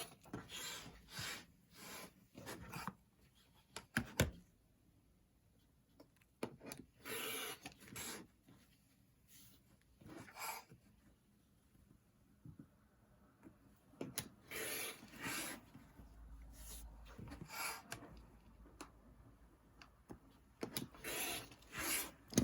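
A rotary or straight blade cuts quilting fabric squares once along a diagonal pencil line, a run of short rasping strokes with quiet pauses between them and no talking.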